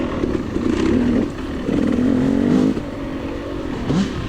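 A KTM 300 dirt bike engine at a woodland hare scramble race revs loudly and repeatedly, its pitch rising and falling as the throttle is worked close by.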